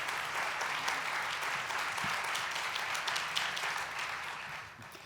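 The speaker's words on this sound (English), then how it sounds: "Would you give our candidates a round of applause" An audience at a 2018 candidate forum gives the candidates a sustained round of applause, a dense, even wash of many hands clapping in a hall that fades slightly at the end.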